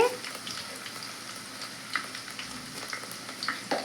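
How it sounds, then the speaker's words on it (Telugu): Tempering spices go into hot oil with chopped onion for a cabbage egg curry, making a soft, continuous sizzle with scattered small crackles and clicks up close. "కొంచెం పోపు దినుసులు అయితే వేస్తున్నానండి"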